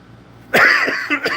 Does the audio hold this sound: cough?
yes